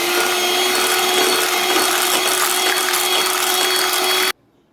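Electric mixer beating plum cake batter with cooled caramel syrup whirs loudly and steadily with a sustained motor hum and gritty scraping, then cuts off abruptly near the end.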